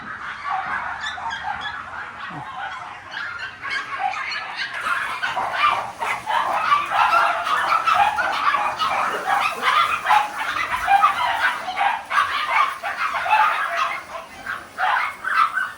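Several dogs yip and whimper in a steady, busy chorus of short high barks, fairly close, at a pet shop in China, continuing throughout without speech.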